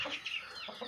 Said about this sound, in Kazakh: Бұл қазір міне жұмыртқа әкеп тұрған тауық.